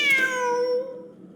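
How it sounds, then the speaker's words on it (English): A single clear cat meow in a video game, a bright rising-then-falling tonal call lasting about a second, close and alone with no voices. "Wait, there it is! The cat!"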